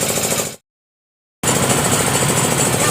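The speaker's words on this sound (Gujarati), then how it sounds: "તો ક્રેન ચાલુ થયું છે." A crane engine at a boat dock runs with a loud, rough, knocking mechanical rumble that cuts out abruptly for under a second before resuming at the same steady level.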